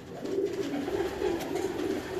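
Pigeons coo in a steady, continuous murmur with no break, close by and fairly loud, with no talking over them.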